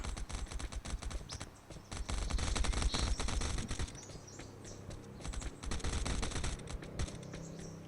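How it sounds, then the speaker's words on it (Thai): Gunfire from the survival video game Last Island of Survival crackles in rapid bursts of automatic shots, dense and continuous, with faint clicking mixed in. "เขายิงกันอยู่ครับ"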